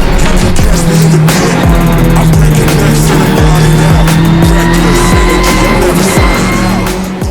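An Alfa Romeo Giulietta TCR touring race car roars past on a track, engine loud and steady with repeated sharp gear shifts and brief tire squeals, no voices.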